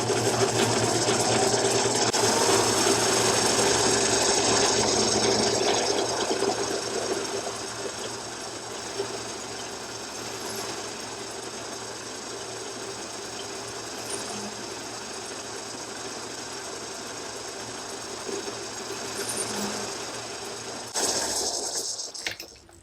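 A machine cutting a metal hole larger for a bushing, a steady droning hum with a constant mechanical whine running throughout, louder at first, then settling lower until a brief change at the end.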